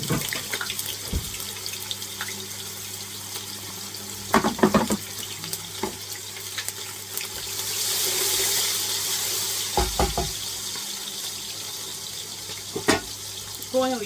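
Onions hit hot oil for jollof rice, a soft sizzle swelling near the middle with scattered clinks and stirring taps, while a tap runs and a voice speaks briefly at the start.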